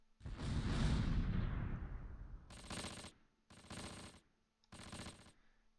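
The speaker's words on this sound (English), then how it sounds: "we can hit this 2-story with the mortars" Mortar and small-arms fire in the World War II strategy game Close Combat: a loud, rumbling blast that slowly decays, followed by three sharp, dense bursts of rapid gunfire separated by short pauses.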